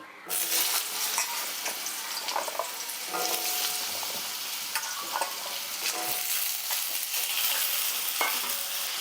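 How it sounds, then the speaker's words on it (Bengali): Diced potatoes fry in oil left over in a wok after an earlier batch, giving a close, lively sizzle with intermittent clinks and scrapes of stirring. "ওই তেলের মধ্যে আমি ডুমো করে আলু কেটে রেখেছি এই আলুটা ভেজে নিচ্ছি"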